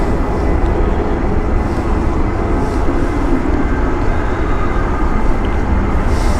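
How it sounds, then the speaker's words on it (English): A Ryanair airliner taking off at Stansted Airport gives a steady, loud, broadband jet roar with a deep low rumble that holds unchanged from start to end. "Company aircraft of Ryanair is now taking off"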